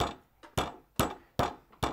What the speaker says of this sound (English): hammer it down a bit. Use your flat edge if you want.